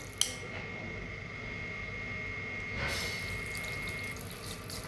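A hot-water tap in a toilet in Mariazell runs in a steady, hissing stream nearby, with a faint thin tone alongside and a brief tap at the start.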